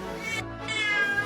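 A distressed cat cries out, meowing in two drawn-out, wavering calls with a brief break between them, close and loud with no talking.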